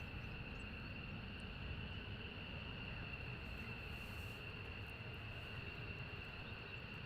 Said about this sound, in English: jet noise behind us, which is quite nice.